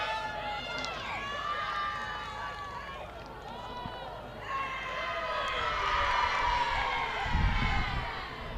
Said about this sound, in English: the crowd quite noisy and enjoying themselves